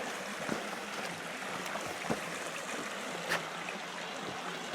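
Soft, steady rush of Pinkerton Creek flowing near a bridge, faint and continuous with a few small splashes and trickles, no voices.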